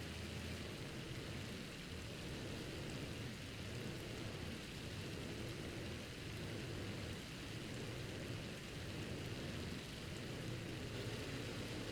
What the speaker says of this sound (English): And of course it had to start raining. Actually, is that hail?